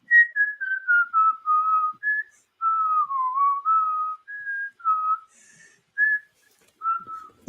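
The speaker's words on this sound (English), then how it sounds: "She's not used to me whistling like that." A person whistles a tune indoors, a series of clear melodic phrases with short pauses between them, close and fairly loud with no talking.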